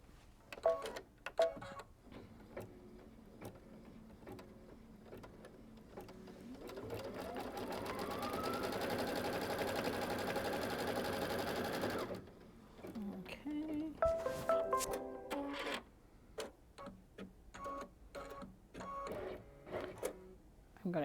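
An embroidery machine tacks down fabric for a quilted bag, whirring up to speed and running steadily for about five seconds before stopping, framed by small clicks and handling noises.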